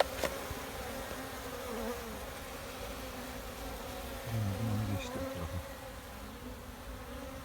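Honeybees buzz softly around the microphone, a faint continuous hum with one nearby bee briefly droning louder.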